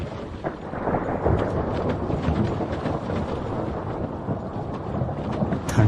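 Thunder at night during a storm on a river crossing, a continuous broadband rumble with steady roar and occasional louder swells, heard alone at moderate loudness without voices.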